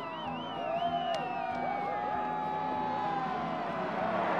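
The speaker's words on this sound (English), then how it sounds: "And the crowd enjoys that as well." A crowd cheers and whoops at a men's moguls freestyle skiing final, a steady, sustained roar of voices in a large outdoor venue, with a few higher shouts rising above it.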